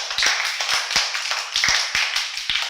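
Classroom children clapping together in a rhythmic burst, sharp near claps in a quick uneven pattern that ends abruptly.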